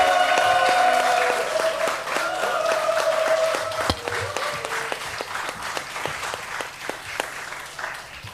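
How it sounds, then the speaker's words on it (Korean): A church congregation at a Sunday service bursts into sustained applause and cheering to welcome the pastor, loud clapping at first that gradually thins into scattered individual claps, with some voices and tones mixed in early on. "목사님 환영하는 마음으로 박수하고 함성으로 모십니다"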